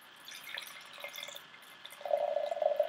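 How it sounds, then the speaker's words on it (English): Beer pours into a glass, a soft liquid trickle and drip that turns into a louder, steady gurgling stream near the end, close and with no talking. "I like to actually sit there and pour it into a glass as such"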